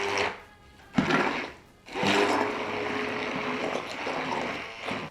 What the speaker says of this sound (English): so now I'm just gonna go ahead and start pureeing the cauliflower